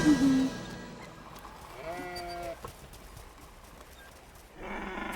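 A cartoon sheep lets out a short, wavering bleat among flat background sounds, with another brief bleat-like tone near the start.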